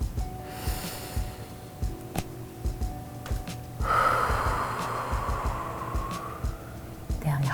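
A group of schoolchildren takes a second deep breath with eyes closed in a classroom calming exercise, a broad soft rush of air rising partway through and fading slowly over a faint room hum.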